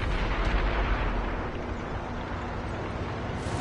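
Heavy tank artillery fire in the World of Tanks video game, heard as a dense, continuous rumble of booming cannon blasts and explosions on a muddy battlefield, loud throughout with no clear gaps between shots.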